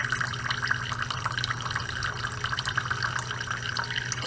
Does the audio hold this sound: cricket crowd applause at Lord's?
no